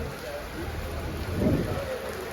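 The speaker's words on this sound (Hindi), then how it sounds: "और बारिश एक बार फिर से तेज़ हो गई है।" Heavy rain pours steadily at Faisalabad railway station, a dense, even hiss with a low rumble swelling briefly in the middle, heard from close by without voices.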